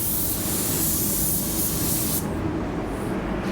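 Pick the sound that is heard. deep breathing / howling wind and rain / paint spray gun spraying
paint spray gun spraying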